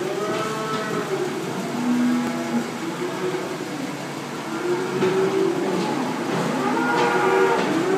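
Several F1 Braford cows with Brangus calves moo in overlapping low calls, one after another, loud and near over a steady background hum.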